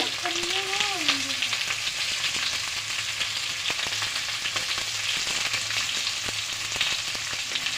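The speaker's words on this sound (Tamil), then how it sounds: "இது நல்லா வதங்கட்டும் எண்ணெயில்" Okra sizzles steadily in oil, a close, continuous crackling fry with occasional spatula stirs and a brief voice murmuring at the start.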